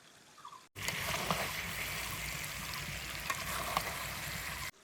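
Jujubes for a pickle simmer and are stirred in a pan, giving a steady bubbling sizzle with occasional scraping stirs that starts abruptly and cuts off near the end.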